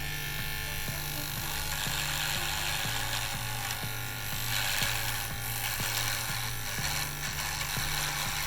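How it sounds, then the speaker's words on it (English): A Philips Norelco S90 electric razor trims across a face, giving a steady, close buzzing hum with faint regular ticking throughout. "let's go ahead and trim the left side of my face right now"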